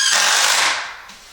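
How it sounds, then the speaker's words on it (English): A power drill whirs briefly and loudly while driving through wooden boards to join them for workshop shelving, then winds down. "just drill these together"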